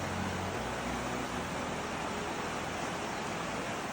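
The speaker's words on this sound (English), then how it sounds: "the gentle sound of running water creating nature's own white noise" Running water of a river, a dense, steady rushing wash with no breaks, constant and enveloping, no voices.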